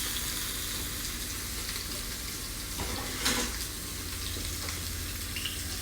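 A burger frying in hot oil in a pan sizzles steadily with soft crackle, and a brief louder clatter comes partway through.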